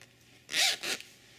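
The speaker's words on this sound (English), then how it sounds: "when you zip it" A zipper runs along a cushion cover for a pallet couch, two quick close rasping pulls in a row, crisp and clear against a quiet room.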